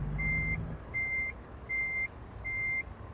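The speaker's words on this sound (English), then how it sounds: "Why is that reversing beeper staying on?" A truck's reversing beeper sounds inside the driving game American Truck Simulator. Four evenly spaced high-pitched beeps play clearly over a low engine rumble.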